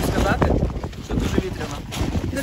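Gusty wind buffets the microphone in rough bursts, close and blustery, with voices speaking underneath.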